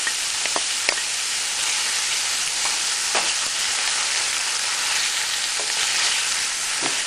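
Hot and sweet peppers frying in a pan alongside pork chops, a dense, continuous, loud sizzle right up close, broken by occasional faint clicks of stirring, with no talking.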